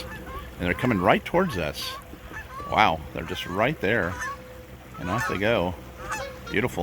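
Canada geese on the water at Lodi Lake on the Mokelumne River honk repeatedly and loudly nearby from a small boat, with someone talking over the calls.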